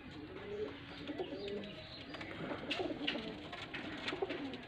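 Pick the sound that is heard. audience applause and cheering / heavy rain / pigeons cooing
pigeons cooing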